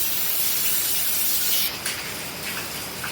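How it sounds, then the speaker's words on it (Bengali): Water poured into a hot pan of fried onions hisses loudly and steadily, then the burst of steam eases and sputters after a couple of seconds. "একটু পানি দিয়ে দিলাম"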